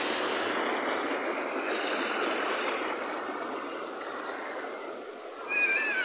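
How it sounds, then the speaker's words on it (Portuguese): Strong ocean waves wash and hiss steadily onto the beach at Piratininga, Niterói, loud and continuous, and swell again near the end. "Tem ondas que vêm muito, muito forte"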